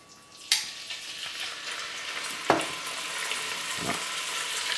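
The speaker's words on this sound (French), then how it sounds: "On les prend, on va les faire revenir donc dans l'huile." Pieces of beef browning in hot oil in a pan for mafé, a soft steady sizzle with a few sharp crackles and stirring clatters, close and without talk.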